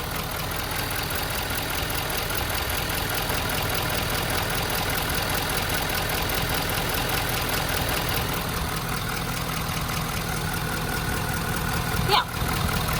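A 2017 Ford F250 Lariat with a 6.7 Powerstroke diesel idles close by, a steady low rumbling clatter with a faint knock that holds throughout, plus a brief bump near the end.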